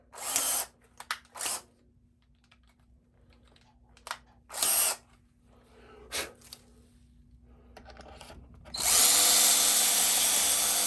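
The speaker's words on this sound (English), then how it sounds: "Drilling through that maple cap first on this guitar." A power drill whirs in several short bursts, then runs continuously at the end as it bores through the hard maple cap of a Paul Reed Smith guitar, loud and close.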